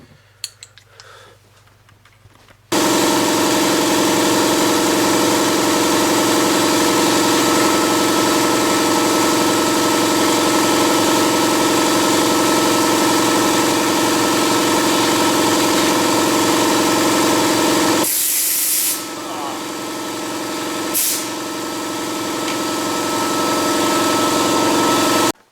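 Pneumatic air impact wrench with a vane motor starts up after a few faint clicks and runs at a loud, steady high-speed whir, briefly dipping near the end before spinning back up.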